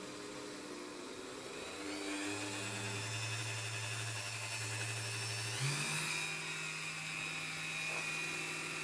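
A power drill spins up in steps, its motor whine rising in pitch as speed increases, steady and close during work on a leathercraft rivet setter.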